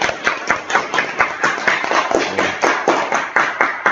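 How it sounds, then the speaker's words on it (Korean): A small group at an alternative-education meeting claps to welcome one another, with distinct, fairly loud claps falling in a quick, regular rhythm throughout, close by and without speech. "우리 박수로 서로 환영하겠습니다."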